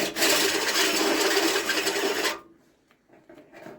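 A harsh, rasping grind of an electric drill bit cutting a hole runs loud and steady for about two seconds, then cuts off abruptly into quiet.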